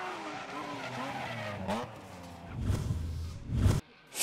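Drift cars squeal their tires and roar through a pass at a French drift championship round, the skid rising and swelling loudly near the end before cutting off abruptly.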